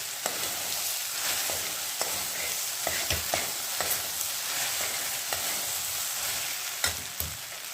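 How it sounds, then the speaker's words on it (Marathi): Okra being stirred as it fries in a pan for a dry Jain bhendi dish, with a continuous sizzle and regular scraping strokes of the spoon against the pan. "भेंडी भाजताना असं खालणं हे करायचं आणि तर खाली ना चिटकतं त्यामुळे थोडं थोडं असं खालणं फिरवून द्यायचं"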